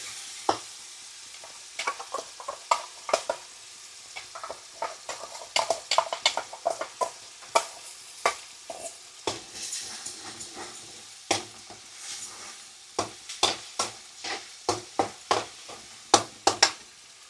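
Spoon stirring onion paste in a pan while making Telugu egg curry (kodiguddu pulusu), giving irregular close scrapes and clacks over a soft sizzle throughout.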